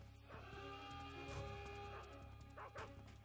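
Dog barking in Metal Gear Solid 3 on PS3, a run of yipping barks over a steady game music bed, quiet and somewhat distant, with no talk over it.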